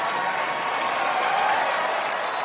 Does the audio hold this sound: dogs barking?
no